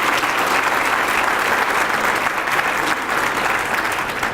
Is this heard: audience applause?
yes